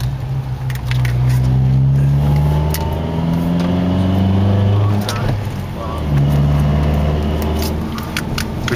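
A car approaches and passes on a foggy mountain road, its engine hum rising and falling loudly and close for several seconds, steady and droning.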